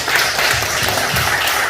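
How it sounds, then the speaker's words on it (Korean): A congregation applauds in a church, a dense, loud wash of many hands clapping that carries on without a break. "주님께 감사와 영광을 박수드립니다."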